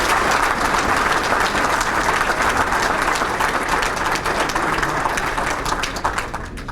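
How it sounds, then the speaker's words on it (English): A hall-of-fame banquet crowd gives a sustained round of applause for an inductee accepted on his behalf, dense steady clapping that fills the room and begins to thin only at the very end. "if you give him a round of applause"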